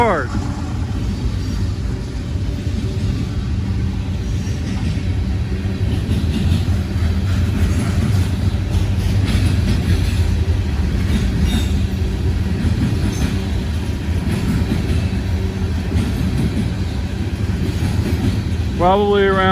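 A long freight train loaded with about 13,000 to 15,000 tons of coal rolls past close by, a loud, continuous rumble of wheels and cars, with a brief squeal at the start and end.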